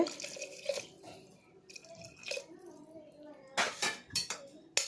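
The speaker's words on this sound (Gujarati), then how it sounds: "હવે આપણે છે ને અંદર પાણી નાખવાનું છે।" Water pouring into a pot of spiced potato curry, with splashing and dripping bursts near the end, light clatter of utensils and a voice speaking at the start.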